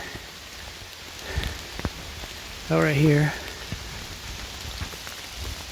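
Rain patters steadily on a hiking trail, a constant close hiss of drops, while a person briefly speaks over it.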